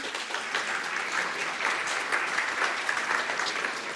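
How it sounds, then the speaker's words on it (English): Brief audience clapping at a lecture on chocolate tempering science, a fairly quiet but dense, even burst of many hands lasting a few seconds with no talking. "So we always clap when we see equations"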